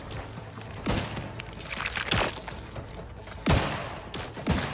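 Gunfire during combat in The Outer Worlds 2, with four sharp loud shots or bursts spaced about a second apart over a steady background bed.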